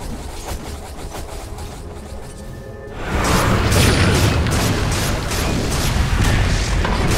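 Dota 2 tower under attack: after a few seconds of quieter game ambience, a dense, loud wash of crashing, booming combat noise breaks in and carries on steadily to the end.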